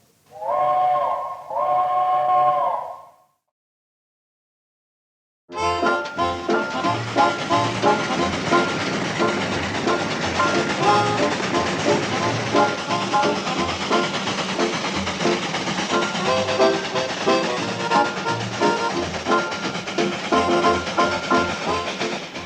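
The Cannonball steam train runs steadily on the rails with a continuous loud rumble and clatter, preceded by two short tonal blasts and a brief silence.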